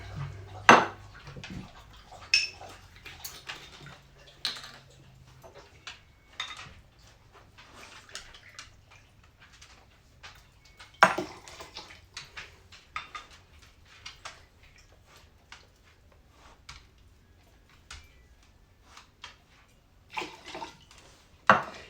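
Gin measured and poured for cocktails, with scattered clinks of a jigger and glassware, brief trickles of liquid and light tapping, fairly quiet and close.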